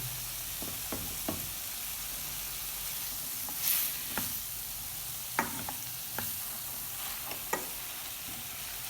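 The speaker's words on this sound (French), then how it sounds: "Ensuite, nos crevettes. Et on va mélanger." Shrimp sizzle steadily in a hot pan, with several sharp scraping knocks from stirring scattered through the clip and no talking.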